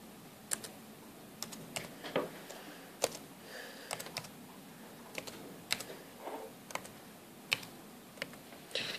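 Fingers typing on a computer keyboard, quiet irregular bursts of close key clicks with brief pauses between words.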